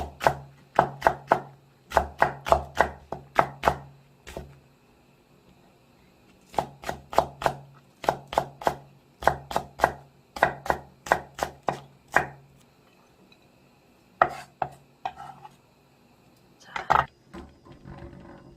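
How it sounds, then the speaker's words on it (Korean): Rapid bursts of a knife chopping green onions on a board, quick rhythmic clusters of sharp taps separated by short pauses. "파 그냥 편할 대로 어스더스 썰어도 되고 쫑쫑 썰어줘도 되고"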